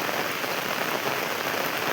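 Heavy rain pours steadily across a town in Meerut, a dense, continuous hiss of drops drumming on surfaces, loud and unbroken with no voices.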